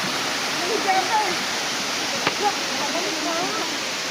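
Balite Falls in Cavite pours in a steady, broad rush of water that fills the whole scene, loud and continuous, with a few faint voices and splashes underneath.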